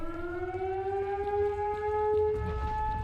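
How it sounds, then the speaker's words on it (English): Surge blowout warning siren in the S.T.A.L.K.E.R. video game, a sustained wailing civil-defense tone with strong harmonics, slowly rising in pitch and holding steady over a low rumbling background. "That sounds like a surge incoming."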